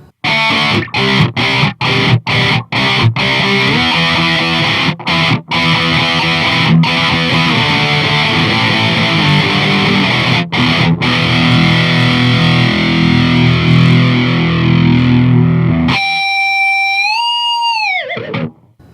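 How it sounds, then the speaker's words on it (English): Distorted electric guitar on the bridge pickup through a Line 6 Spider V 240HC head with a doubler effect, thickened tone, a run of chopped chords then sustained notes, ending in a bending, wobbling note. "Now turn the doubler on."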